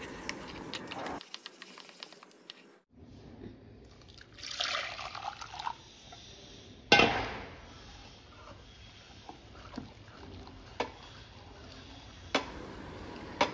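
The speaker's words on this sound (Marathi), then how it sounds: "डिशवॉशरने आपण सर्व पातेलं क्लीन करून घेणार आहोत" A dishwasher cleans a burnt cooking pot, with continuous watery sloshing and trickling plus scattered clicks and rattles, steady and fairly quiet throughout.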